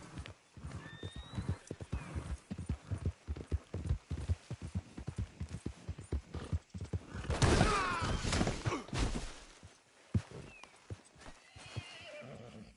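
Horse hooves clip-clop steadily and close while riding in the video game Red Dead Redemption 2, with a neigh or whinny breaking in midway.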